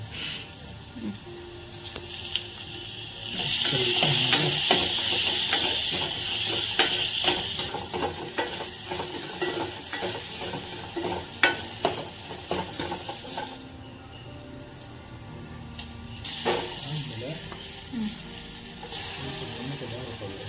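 Chopped onion sizzles and fries in a hot pan while being stirred, a steady hiss with scattered scraping taps of the spoon, close and moderately loud with no talk, during home cooking of jeera pepper rasam.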